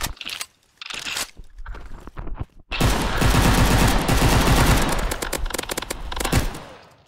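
AK5 rifle fire in the mobile shooter Maskgun FPS: a few short bursts, a pause, then a long loud stretch of rapid automatic shots with overlapping gunfire and impacts, close and dense, no talking.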